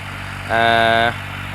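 A tractor engine hums low and steady nearby, and a short, loud, horn-like tone sounds over it for about half a second.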